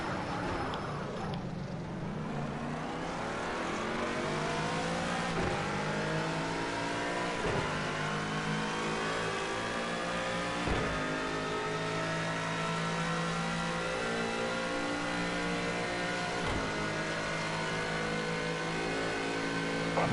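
A race car engine in Project CARS 2 during an endurance race, revving hard and holding high, droning revs with rising and falling pitch sweeps and brief dips at each gear change, steady and close.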